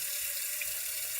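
Tap water running steadily into a sink indoors on a hot day, a continuous close hiss with no voices.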